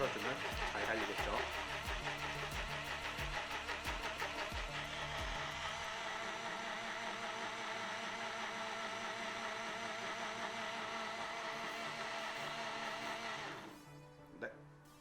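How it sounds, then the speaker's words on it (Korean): A portable rechargeable blender runs steadily while grinding grapes, a loud close motor whir with rattling chopping thuds early on, before it cuts off near the end and leaves a short clatter. "그 다음에 마지막 남은 포도를 한번 갈아 보겠습니다."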